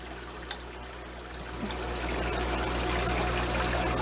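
Small waterfall trickling into an aquarium in a home fish room, a steady close splashing wash that swells slightly louder over a low equipment hum, no talking.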